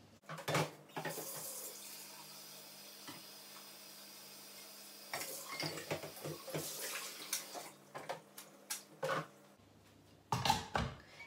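Tap water runs into a sink while a container is rinsed out after grinding guinea pig treat pellets, a soft steady stream broken by clattering splashes and knocks as it is handled.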